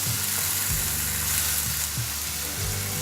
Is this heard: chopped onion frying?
yes